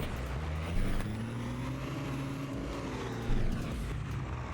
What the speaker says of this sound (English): It is quite a loud truck though